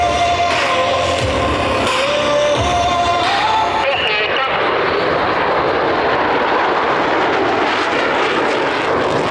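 A fighter jet with afterburner roars steadily overhead at an air show in Tallard, a broad rushing wall of noise that swells and sustains, with faint voices in the background at the start.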